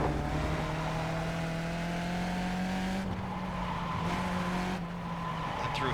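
A race car in the iRacing sim drones loudly and steadily through a corner under light braking and opposite-lock oversteer, with two brief dips in the engine note like gear changes or lifts off the throttle.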